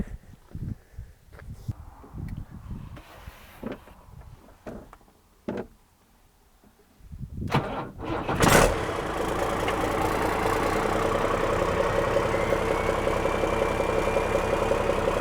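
A Cummins diesel engine in a Land Rover 130 cranks with a few dull mechanical knocks and clicks, then catches and settles into a steady, loud, rumbling idle that runs to the end, close by.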